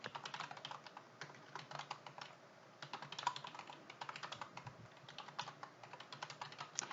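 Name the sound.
typing on a computer keyboard in Excel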